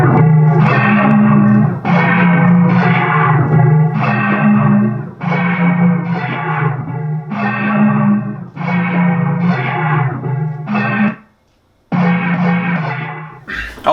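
A low, dark, distorted sample pitched down an octave plays in repeated heavy phrases with reverb, cutting out briefly near the end before resuming.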